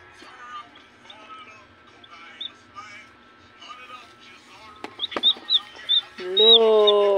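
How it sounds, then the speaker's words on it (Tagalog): Soft background chatter and scattered chirps give way to a series of short clucks and then a louder, sustained chicken call at the end. "natukan ning manok ba Jansen?"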